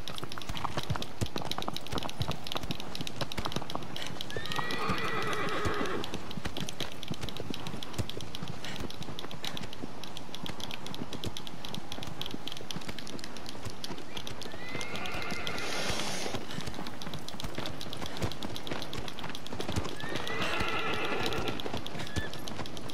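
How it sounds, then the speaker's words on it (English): A horse in Shadow of the Colossus gallops with continuous rapid clip-clopping hooves, and three loud whinnies break through at intervals over the steady drumming of its run. "I need the horse to jump over that."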